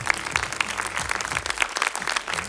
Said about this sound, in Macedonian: Да ги поздравиме со еден голем аплауз денешните финалисти